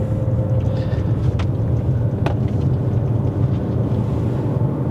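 Chery Tiggo Cross 1.5 HEV hybrid car pulling away, heard from inside as a steady low rumble of engine and road noise, even and continuous, with no talk.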